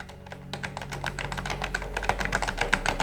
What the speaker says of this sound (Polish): ona nie jest mechaniczna, to jest membrana